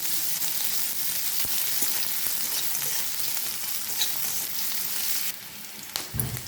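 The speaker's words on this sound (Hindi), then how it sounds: "देखंतु पियाज टे आमर भाजी गलानी" Onions fry in a pan for an Odia mushroom dish, giving a loud, continuous sizzle close by with occasional stirring scrapes and no talk.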